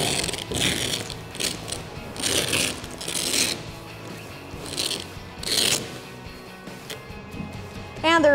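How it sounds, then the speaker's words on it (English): A Rough Country soft roll-up tonneau cover on a 2019-2021 Silverado or Sierra 1500 pickup is rolled backward, giving bursts of rustling, clicking and ratcheting mechanism noises in uneven strokes, close by, with someone talking over it. "roll the cover backwards"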